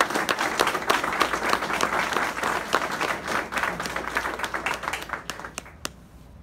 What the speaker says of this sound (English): Let's give the awardees a round of applause.